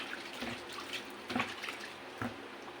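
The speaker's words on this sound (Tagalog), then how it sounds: "Hugasan ko muna itong mga pinagagamitan ko." Tap water runs steadily into a sink while cooking utensils are washed, with a few soft clinks and splashes over a faint continuous flow, close by and fairly quiet, with no speech.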